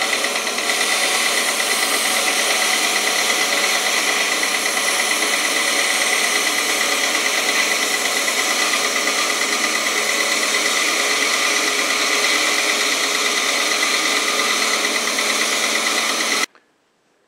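A power tool trims wooden knife handle scales with a loud, steady high-pitched whine and grinding buzz that runs unbroken for about sixteen seconds before cutting off abruptly to silence.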